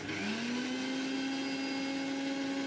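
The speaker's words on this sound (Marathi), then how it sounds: "आणि मिक्सरवर चांगलं बारीक करून घ्यायचं" A kitchen mixer grinder whirring as it blends chilli and ginger with a little water into paste, a steady close motor hum with a rising pitch as it spins up, alone without talk.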